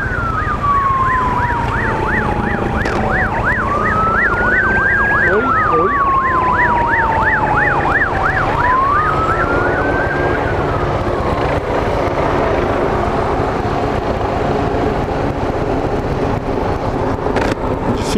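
A fire engine's wailing siren sweeps up and down in traffic, loud and close, with a rapid yelp pattern layered in before it fades into the steady roar of road and wind noise.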